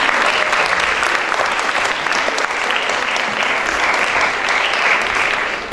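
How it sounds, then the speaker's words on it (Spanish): Loud, dense applause from an audience at an international academic colloquium fills the space continuously for several seconds, with no pauses and no talk over it. "de forma simbólica a Paul Schweizer, así que regálenle un aplauso a la distancia"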